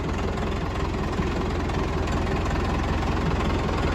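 Backhoe engine idling steadily and loud while pulling a tree stump, a low pulsing diesel throb with an even rhythm and no letup.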